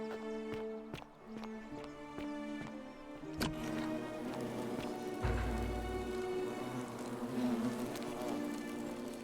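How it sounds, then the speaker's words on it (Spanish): Flies buzz steadily near a wasp nest in the video game The Forgotten City, a dense, droning insect hum that continues throughout with layered tonal game ambience underneath. "O sea, suenan moscas."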